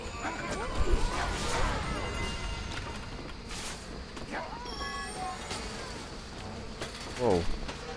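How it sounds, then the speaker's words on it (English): Buzzing bees in the co-op video game Trine 2, a humming swarm under excited player chatter, with clattering game effects and a few bright chimes mixed in. "Whoa. Crazy bees."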